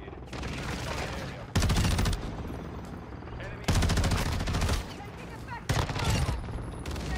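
Tempus Razorback rifle from Modern Warfare 2 firing in three loud, rapid bursts separated by short pauses, with game ambience and faint chatter underneath.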